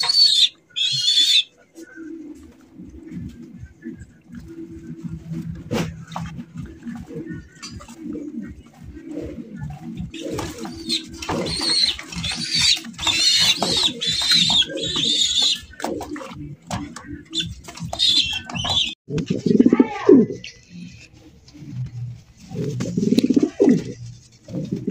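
Racer pigeons in a loft give low, rhythmic cooing, repeated throaty pulses up close, with people talking over parts of it.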